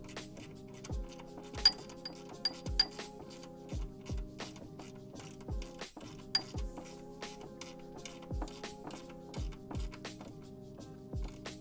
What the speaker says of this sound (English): And then we can go ahead and tighten this.